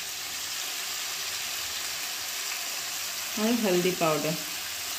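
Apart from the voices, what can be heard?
potato pieces frying with salt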